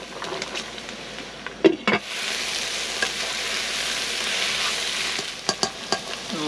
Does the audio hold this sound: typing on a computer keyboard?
no